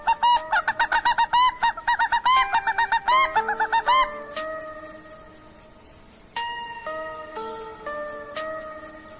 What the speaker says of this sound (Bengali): এত রাতে মুরগি চিৎকার করছে